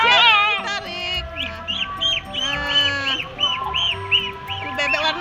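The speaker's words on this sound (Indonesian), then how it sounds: "Itu bebek warna apa itu bebeknya?" Ducks being fed quack loudly and close in a quick repeated series of nasal calls, with other farm birds and a voice mixed in.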